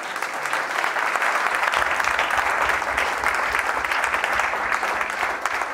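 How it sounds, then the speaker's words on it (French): A church congregation bursts into sustained applause for Jesus during a Sunday service, a dense, steady wash of clapping that fills the whole stretch without a break. "Est-ce que tu peux donner une acclamation à Jésus?"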